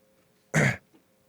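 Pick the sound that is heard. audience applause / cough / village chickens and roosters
cough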